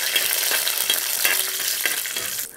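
Peanuts and mustard seeds fry in hot oil, a loud, close, continuous sizzle and crackle with occasional sharper pops, heard alone without talk.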